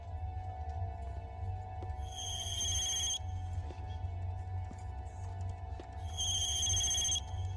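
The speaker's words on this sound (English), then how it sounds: "That's Neo talking to him on the phone." A telephone in the animated film The Animatrix rings in two electronic bursts about four seconds apart, set over a low steady hum with faint clicks between the rings.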